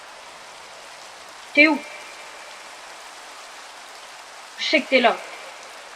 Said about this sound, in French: Pourquoi il se met à pleuvoir quand mon écran il tremble d'un coup là?